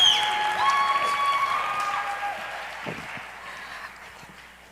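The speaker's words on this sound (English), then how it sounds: "Another big round of applause for the Betsy Seidel." Audience applause at a scholarship pageant competition, clapping that starts strong and slowly tapers off, with bright sustained tones from music or feedback ringing over the start.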